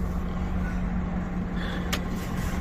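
A stuck Scania truck trying to move with its wheels spinning, giving a steady low engine drone with a brief hiss near the end, no talking.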